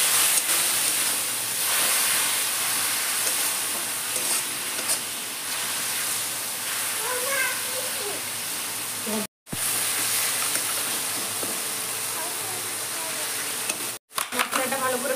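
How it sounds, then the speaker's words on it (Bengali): Ground cumin, coriander and red chilli masala stir-fried in oil for a mushroom curry makes a dense, steady sizzle for about fifteen seconds. Faint background voices sit beneath it, and it cuts out abruptly twice. "ভালো করে মশলাটা কষাই নেব।"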